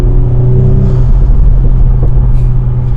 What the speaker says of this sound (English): It's louder inside because you get the turbo noise